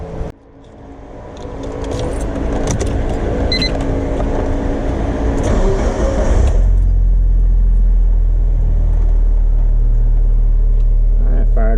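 A Mitsubishi Evo IV's 4G63 engine fires up close by, a rising mechanical roar at start that settles after a few seconds into a loud, steady, low rumbling idle.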